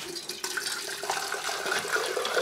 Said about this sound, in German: Das Wasser erstmal dazu füllen.